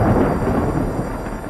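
Thunder from a lightning storm in the film The Hunger Games: Catching Fire rolls as a loud, continuous, deep rumble that fills the whole moment without any voices.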